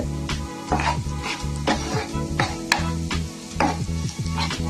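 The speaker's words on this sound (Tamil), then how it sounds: "வெங்காயம் நல்லா வதங்கி வரணும். வதங்கட்டும்." Onions sauté in sesame oil in a pan, a steady sizzle under repeated rhythmic scraping strokes of a spatula stirring them, close and continuous, with no voices.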